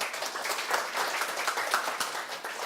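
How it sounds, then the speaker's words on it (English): An audience breaks into steady applause as a lecture begins, many hands clapping in a dense wash from a moderate distance, with no voices over it. "It's sometimes dangerous to applaud at the beginning of the talk"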